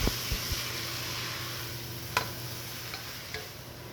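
Spinach being sautéed and stirred in a pan for a spinach dal, giving a steady faint sizzle with a few light scrapes and taps of the spoon against the pan, heard alone with no talk.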